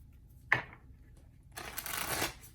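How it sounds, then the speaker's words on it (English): A deck of guidance cards is shuffled close by: one sharp riffle snap, a brief pause, then a longer rustling shuffle, quiet overall. "One more shuffle."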